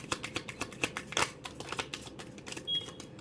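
Tarot cards are shuffled by hand in quick bursts of soft riffling flicks and papery slaps. The sound is close and fairly quiet, with no voice.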